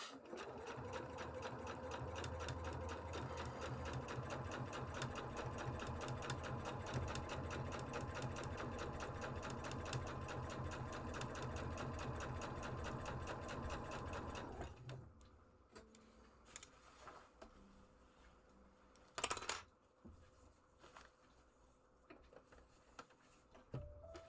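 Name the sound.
sewing machine stitching underwear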